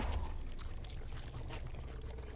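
Water poured steadily into a glass or cup at close range, a continuous trickling splash with no talking over it.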